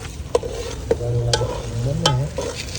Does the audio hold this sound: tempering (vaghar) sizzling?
yes